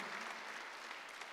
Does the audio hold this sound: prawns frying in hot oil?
no